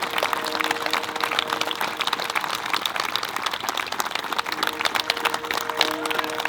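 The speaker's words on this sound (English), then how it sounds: "So round of applause." Applause for Vietnam era veterans in an audience, a dense, continuous patter of clapping with a faint steady hum beneath, fairly loud and unbroken across the stretch.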